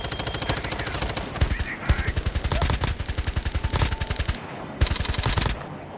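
Rapid automatic gunfire from Call of Duty Mobile, a dense run of close, loud shots in sustained bursts with short pauses between them, and faint talk underneath.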